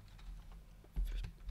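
Numbers and a tab key are typed on a computer keyboard, a handful of quiet, quick clicks with a slightly louder pair of key presses near the end.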